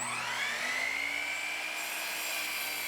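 A power saw slicing through a wooden board being cut to length for sawhorses, a loud continuous whining cut with a rising tone, close up and alone for the whole stretch.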